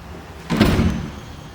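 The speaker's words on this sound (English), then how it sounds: "Entry door." A house entry door swings open or shut once in a single soft thud and rustle lasting about half a second, heard up close with no voices.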